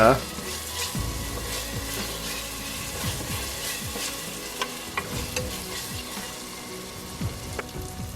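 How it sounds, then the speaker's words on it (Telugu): Ginger garlic paste frying in a pan for a mutton head curry gives a close, steady sizzle with crackling spatter and occasional stirring scrapes, without talk. "వెంటనే అల్లం వెల్లుల్లి పేస్ట్ 4 టేబుల్ స్పూన్లు వేసుకొని కాస్త ఫ్రై చేశాక"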